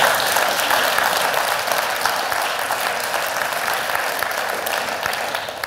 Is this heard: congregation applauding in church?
yes